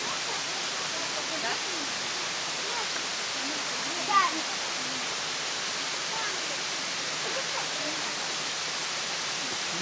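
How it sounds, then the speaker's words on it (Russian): A waterfall in Crimea bursting from a rock face into a stream, heard as a steady broadband rush of falling water from close by, with people talking quietly over it. "А вот он водопад."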